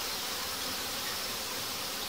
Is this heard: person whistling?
no